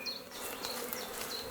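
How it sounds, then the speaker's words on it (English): Honeybees buzz around an established hive in spring, a steady low-level insect hum with occasional louder passes as individual bees fly close. "what we've got here is the original hive with all the bees in"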